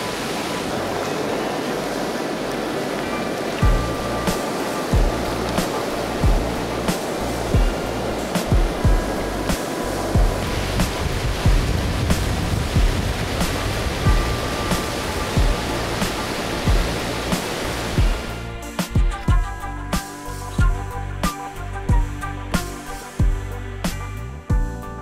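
Powerful waterfall on a wild boreal river, a steady loud broadband roar of rushing water with no voices, its texture shifting slightly partway through.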